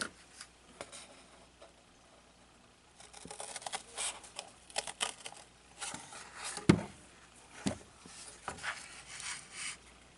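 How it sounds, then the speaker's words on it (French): Scissors snip through paper or card while two small squares are cut out for a colored-pencil storage holder, a run of close, quiet crisp snips and rustles that come irregularly, with one sharper cut standing out. "je vais venir découper mes deux petits carrés"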